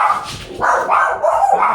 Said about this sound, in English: Stop barking. Stop. There's nobody here. Stupid dogs.